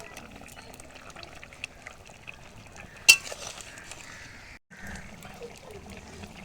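Fried lentil dumplings (bori) drop into a simmering vegetable curry in a pot, and a sharp splash is followed by steady bubbling and stirring. The cooking noise stays close and fairly quiet.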